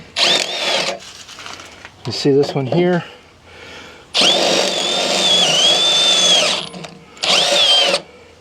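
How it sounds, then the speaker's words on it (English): A power drill with a 1/2 inch bit opens up holes during a rock slider installation on a Jeep Gladiator, loud whirring bursts of several seconds each, stopping and starting, with someone speaking between them. "We're gonna hit them with a drill bit, 1/2 inch, open them up a little bit."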